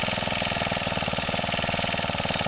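Honda FG110 mini tiller engine idling while warming up, a steady close, loud rattling putter with an even rapid pulse throughout and no talk.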